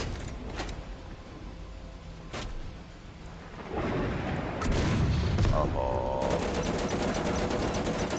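A tank's machine gun fires in the video game MWT: Tank Battles, with a low rumbling battle din that swells midway into a rapid, rattling stream of shots near the end.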